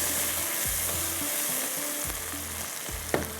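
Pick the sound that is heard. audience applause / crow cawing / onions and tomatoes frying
onions and tomatoes frying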